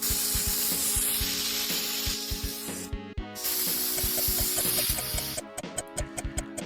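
A deodorant spray can hisses in a comedy sketch, pitched as a mecha deodorant: a loud, steady close-up spray that cuts out briefly midway, then resumes and breaks into short sputtering bursts over a low rhythmic backing.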